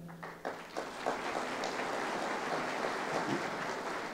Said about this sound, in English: Let's hold the applause until the end.